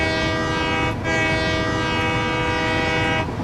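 A train horn honks in a video game, a steady sustained blast that breaks off briefly after a second, sounds again and holds to the end, loud and alone with no talk.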